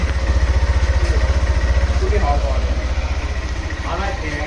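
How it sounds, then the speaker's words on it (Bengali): A freshly serviced motorcycle idles nearby with a steady, even low throbbing pulse, and voices are heard over the engine. "আর বাইকের সাউন্ডটাও অনেক ভালো হইতেছে"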